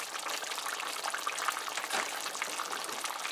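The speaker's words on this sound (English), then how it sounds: "So now we're going to add a little bit more water." Water pours into a pot of Guyanese chicken curry with potatoes, a steady close splashing and bubbling hiss that swells briefly near the middle, with no talking.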